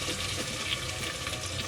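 Water poured into a pan of passata in a home kitchen while making Italian-style meatball sauce, a steady soft splashing rush heard briefly and up close with no talk.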